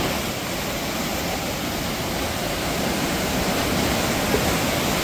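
Floodwater rushing down a swollen river, a dense, steady roar that stays loud and unbroken throughout, with no voices over it.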